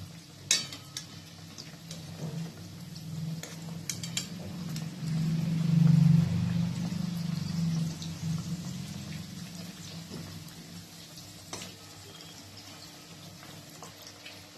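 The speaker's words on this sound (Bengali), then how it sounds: "আঁচটাকে আমি লো ফ্লেমে রেখে দেব। এরপর এপিট ওপিট করে দুপাশটা ভেজে নেব।" Maggi noodle snacks fry in oil in a pan over a low flame, a soft steady sizzle with scattered clicks and scraping stirs, rising briefly to a louder bubbling patch midway.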